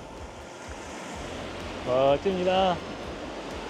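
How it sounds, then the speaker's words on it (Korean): Sea waves wash steadily onto a beach beside a camellia forest on a Korean island coast, a constant close roar of surf throughout while someone briefly speaks over it midway. "바닷소리, 파도소리."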